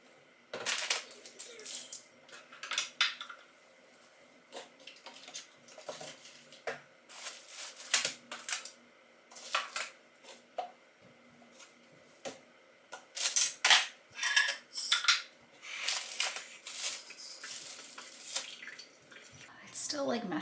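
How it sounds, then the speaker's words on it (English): Dishes being washed at a kitchen sink, with intermittent clinks and clatters of crockery, running-water splashes and scrubbing in irregular bursts, close and moderately loud over a quiet background. "I desperately need to do the dishes"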